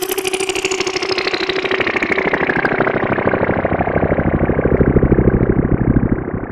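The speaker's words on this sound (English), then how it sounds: "Thanks to the cross modulation, the rate of the LFO, and the distortion on other effects, you can get crazy results." Free analog-style software synth making a weird effect with cross modulation, a fast LFO and distortion: a harsh, buzzing, gritty tone that sweeps steadily downward, loud and continuous throughout.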